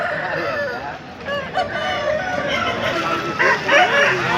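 A rooster crows at the Pileru hen market in India, its call rising clearly over a busy backdrop of other fowl clucking and crowd murmur, with a dog barking faintly at one point.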